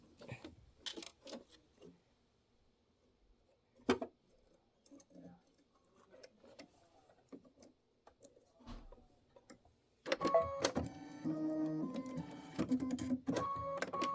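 A home embroidery machine stitches in ruby thread, its busy mechanical chatter starting after a long stretch of quiet with faint clicks and handling noises, then running steadily and loud to the end.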